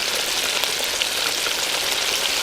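Continuous loud sizzling and crackling of fish fillets frying in hot oil outdoors, close and steady throughout, with no talking.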